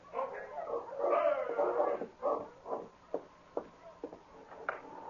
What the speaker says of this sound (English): he heard the sound of Sergeant Preston's dog team stopping at the cabin